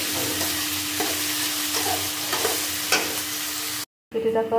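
Vegetable chowmein with salt stirred in a pan: a close, steady sizzle punctuated by several spatula scrapes and taps, then a sudden cut to silence and a brief burst of clattering.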